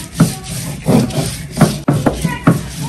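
Onion is ground into paste by hand on a grinding stone, giving rhythmic rasping strokes of stone rubbing against stone, about six close, loud scrapes at a steady back-and-forth pace with no talking.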